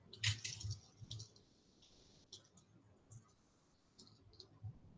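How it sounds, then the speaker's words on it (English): Iron filings drawn toward a magnet make faint, sparse little clicks and ticks scattered across a few seconds, quiet and close against a soft hiss, with no speech. "I hear all these quiet little clicking sounds, and that's from all the iron filings finding them way up to where the lid is"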